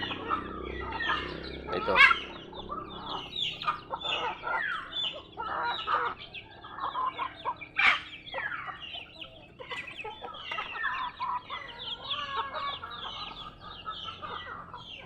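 Mixed backyard chickens, native birds, Rhode Island Reds, Decal Brown and Black Australorps, clucking and chattering continuously at close range, with a few louder squawks standing out among the flock noise.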